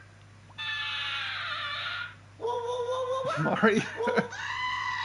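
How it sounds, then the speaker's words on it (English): A screaming sheep sound effect plays: a loud, drawn-out, wavering bleat-scream, then a second harsh cry with stuttering breaks, and another call at the end, all near and clear. A voice speaks briefly between the cries. "Screaming sheep."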